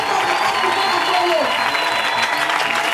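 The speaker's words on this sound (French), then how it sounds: "Acclame encore très fort pour le Seigneur." Continuous loud applause and cheering from a church congregation at a special worship gathering in Congo, a dense crowd roar with scattered voices rising above the clapping.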